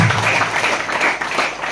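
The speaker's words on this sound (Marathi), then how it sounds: "आपण पण जोरात टाळ्या वाजून प्रभूचे आभार मानायचे आहे." A prayer-centre congregation claps loudly and steadily, a dense wash of hands filling the brief moment with no talk over it.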